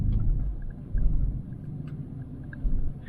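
Low, rumbling engine of an off-road vehicle pushing through mud near Ocala, heavy and close, swelling in a few surges with faint knocks above it.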